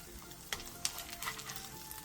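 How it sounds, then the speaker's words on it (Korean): A pancake topped with cheongyang chili sizzles and fries in a pan, a steady close crackle with a few sharper pops and spatters, no voices. "바닥이 노릇노릇해지면 뒤집은 뒤 뒤집은 쪽도 마저 노릇노릇하게 붙여주세요"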